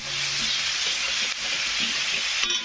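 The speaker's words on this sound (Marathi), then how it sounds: "ही पण पेस्ट छानपैकी असं तळू द्यायची" Ginger, garlic and coriander paste frying in hot oil for mutton kheema, a loud, close, continuous sizzle with faint stirring and no voices.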